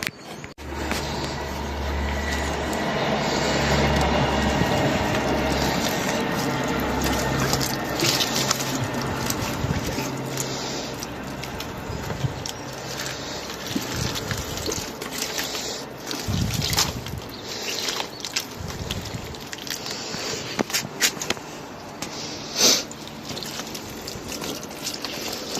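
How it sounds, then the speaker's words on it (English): Water pours steadily onto a freshly composted allotment flower bed and newly planted lavenders, a continuous close splashing hiss with small irregular spatters throughout. "I'm just about to water them."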